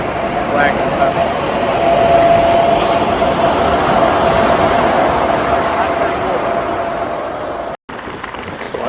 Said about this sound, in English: there's another wagon coming